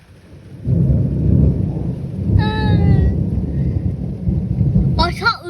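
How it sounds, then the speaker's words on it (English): A loud thunderstorm rumbles with heavy low thunder over steady rain, close and continuous, while a voice briefly cries out twice over the storm. "It's raining."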